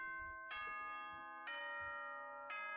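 Three bright chime tones from the Danganronpa 2 video game announcement, each struck about a second apart and ringing with a rich harmonic tail, heard alone and fairly close.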